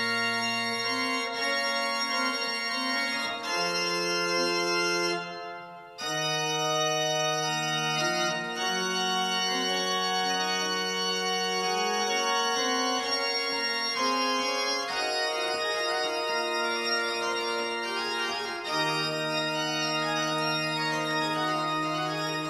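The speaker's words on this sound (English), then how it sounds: "fullness of harmony can also be experienced very well in the Rijkpositiv" The Rückpositiv of a Dutch-style North German Baroque organ plays a polyphonic Sweelinck piece, with bright, sustained pipe tones moving in overlapping voices, full and continuous, broken only by a brief pause near the start.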